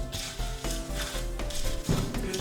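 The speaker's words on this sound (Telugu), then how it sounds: "ఈ మురుమురాస్ని అండ్ మిక్చర్ని మనం మిక్స్ చేస్తున్నాం." Puffed rice (murmura) and namkeen mixture tossed together in a bowl, dry crisp rustling and scraping strokes with soft knocks against the bowl, close and steady, no talk.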